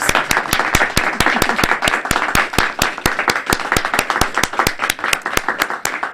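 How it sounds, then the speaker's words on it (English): Members at a Toastmasters club meeting clap loudly and close by, with sharp, distinct handclaps in a quick, fairly even rhythm over a bed of lighter applause. "Big round of applause."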